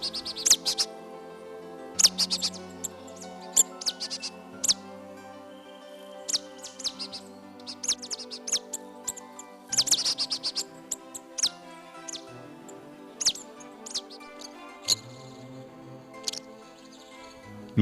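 A tit, a small cavity-nesting songbird, gives repeated sharp chirps and high calls in irregular bursts, clear and fairly close, over soft background music.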